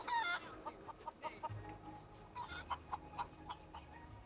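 Hens in the Final Fantasy VII Rebirth video game cluck in a quick, rhythmic series of short, soft calls, faint and layered over a quiet game soundscape.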